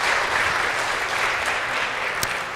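A church congregation claps steadily, a dense continuous patter of applause that holds its level throughout and tapers only slightly near the end.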